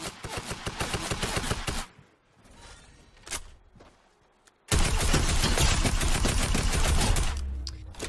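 Rapid bursts of tactical assault rifle fire in Fortnite, loud and close, with a long stream of shots, a quieter gap with a few isolated reports, then another sustained burst.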